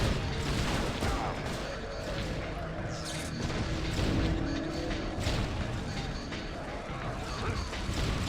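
Grenade launcher fire and explosions in the game Judge Dredd: Dredd vs. Death, a dense, continuous barrage of booms and crashes filling the whole stretch, loud and close.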